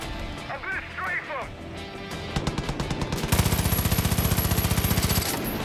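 Far Cry 5 gunfire strafing an enemy, starting with spaced shots and building into a steady, rapid automatic burst that runs for a few seconds, loud and close, with game sounds and voices mixed in.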